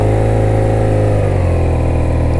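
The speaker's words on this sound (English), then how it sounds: "This is the love about this boxer engine." A 2024 BMW R nine T boxer twin runs steadily up close, a deep throbbing engine note that shifts pitch slightly midway, with no voices.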